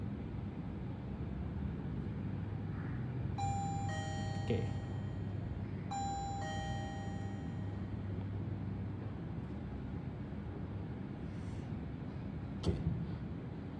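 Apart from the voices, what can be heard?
doorbell ringing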